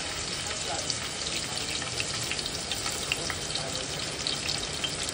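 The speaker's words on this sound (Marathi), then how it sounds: "त्यामध्ये ठेचलेलं लसूण, चिरलेली मिरची घालून 1 मिनिट परतवायचं" Crushed garlic and chopped green chili fried in very hot oil in a pan, a dense, steady crackling sizzle lasting throughout at close range.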